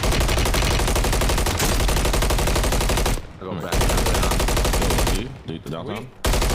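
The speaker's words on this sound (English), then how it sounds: "he shows a shooting clip whilst underwater or shooting underwater in Call of Duty and not able to hit the enemy very well" Sustained automatic gunfire from a Call of Duty match fired while underwater, a dense rapid rattle that runs almost continuously, breaking off briefly twice before resuming, loud and close.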